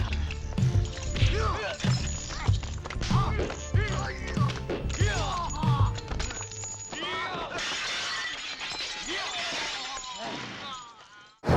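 Glass shatters and crashes repeatedly during a fight scene in the 1985 Hong Kong action film Police Story, with a villain thrown into glass amid loud, dense impacts, music and voices, ending in a final burst of breaking.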